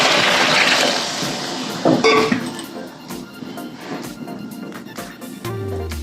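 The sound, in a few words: pouring water into pan of spiced potatoes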